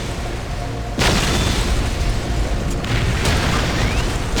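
Artillery explosions boom in the Warhammer 40,000 game Dawn of War, a loud continuous rumbling barrage with heavier blasts breaking in around the middle, dense and close with no talk.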